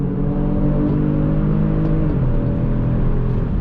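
A 2022 Kia Stinger GT coming back on throttle, its engine note rising steadily in a close, continuous rumble with layered harmonics and a slight pitch shift partway through, no voices.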